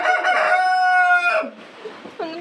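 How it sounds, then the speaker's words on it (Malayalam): A pet rooster, one of a family's backyard hens and cocks, lets out a single loud, close crow lasting over a second, followed by brief soft clucks and rustling. "ഒന്ന് തോന്ന കോഴിയാ കൂവുന്നേ"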